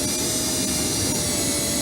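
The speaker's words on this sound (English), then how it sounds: "I'll actually do one with the drill." A power drill runs steadily, driving a screw into a wooden child's stool part, with a continuous whirring motor tone that stays loud and even throughout.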